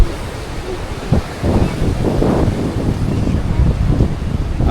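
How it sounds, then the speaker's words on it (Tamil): Rushing surf with wind buffeting the microphone, large waves surging and washing in continuously on Fort Kochi Beach, loud and close. "அலை பெருசு பெருசாக வருது."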